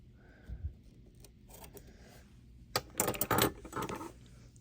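Scissors trimming a small section of bag-making material along a seam line, a few faint snips early on, then a quick cluster of louder, close cutting and rustling sounds.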